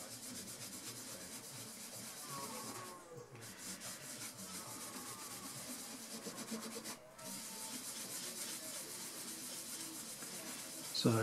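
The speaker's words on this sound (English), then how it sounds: "that's it rubbed in just in that corner and it's just darkened darkened it up certainly darkened up the areas where the scratches are" Polish being rubbed by hand into scratches on the wooden cabinet of a 1939 Rolax five-valve radio: a close, soft, continuous scrubbing rasp with brief pauses, with no talking.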